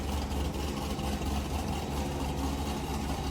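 A sports car engine idles steadily with a deep, even rumble that holds constant throughout.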